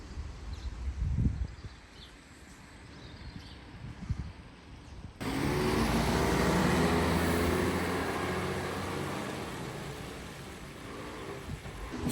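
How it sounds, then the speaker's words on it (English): A large coach passes on a residential street, its loud broadband rumble arriving abruptly and staying heavy and sustained as it goes by close at hand, following quieter street ambience with faint birds. "There's that huge coach, and it's taking no prisoners."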